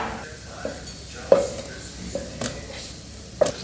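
Raw chicken drops into a hot pan of fried cashews and green chilies, giving a few soft thuds and bursts of sizzling and stirring, with a quieter background of frying between them.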